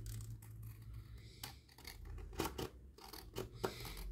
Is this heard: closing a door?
no